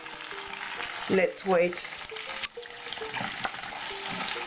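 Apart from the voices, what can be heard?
pine nuts and dried tomatoes frying gently in pan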